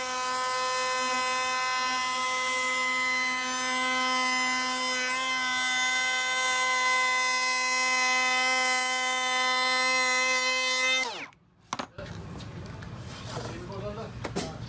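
A Metabo HPT M3612DA 36V cordless brushless variable-speed plunge router runs at a steady high-pitched whine for about eleven seconds, then spins down abruptly, leaving quieter handling noise afterward.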